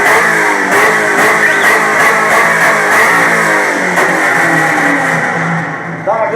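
A V8 hot rod engine revs loudly and close up at a car event, with a rough, throbbing roar that rises and holds steady, then eases off near the end.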